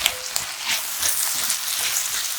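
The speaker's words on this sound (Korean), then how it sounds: "양파가 숨이 죽어 단맛이 올라올 때까지 볶아주세요" Rice cakes and onion stir-frying in a pan with soy sauce, a steady close sizzle with soft crackles and a few stirring scrapes throughout, no voices.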